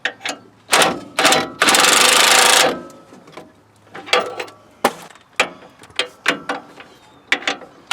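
A 19 mm nut on a Nissan Titan strut is tightened with a ratchet or impact tool during a Rough Country strut replacement, giving several close, loud mechanical bursts, one sustained whirring run of about a second, and then scattered clicks and clanks.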